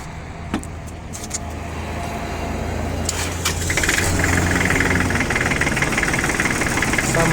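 A Kubota GL33 tractor engine cranks with a few short clicks, then catches and settles into a steady, loud diesel idle that grows fuller and keeps running close by.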